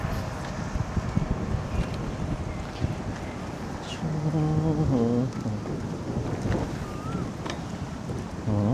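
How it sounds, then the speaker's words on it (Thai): Strong wind at the Bang Phra reservoir buffets a DJI Mic Mini, producing heavy, fluctuating low rumbling noise throughout, with a voice briefly heard partway through. "ลมแรงมาก"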